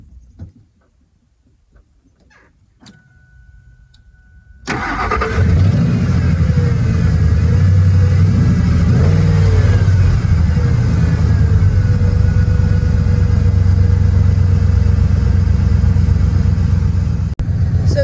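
A Ford F150 with the 4.6 V8 cranks and fires after a few seconds of quiet handling noises, then settles into a loud, steady idle with slight revving that carries on to the end.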